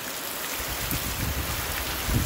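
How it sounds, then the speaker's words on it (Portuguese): Steady rain pours down in the countryside, heard from a balcony as a dense, continuous hiss of drops striking surfaces, close and fairly loud with no voices. "Olha que maravilha, viu? Chuvinha boa mesmo aí, ó."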